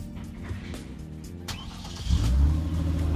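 Sports car engine idling close by with a steady low rumble, then a loud rev about two seconds in that swells and holds as a stronger, throaty roar.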